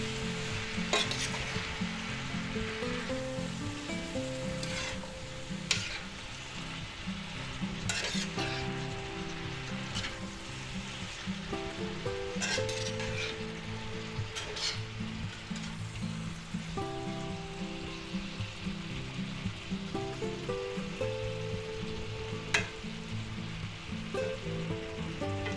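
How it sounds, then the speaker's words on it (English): Canned sliced mushrooms, about eight ounces, sizzle in a hot pan during a quick veggie spaghetti dinner, with a continuous crackling fry and repeated scraping stirs and utensil clinks throughout. "Give them a quick stir."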